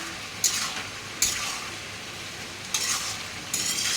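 Food sizzles steadily in a frying pan while a utensil stirs it, scraping the pan in four short, sharp bursts over a soft continuous sizzle, with no talking.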